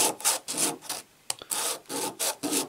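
A coin is rubbed back and forth across iron-grade sandpaper fixed to a gauge, giving repeated rasping strokes in a rhythmic series with a brief pause midway, close and fairly quiet.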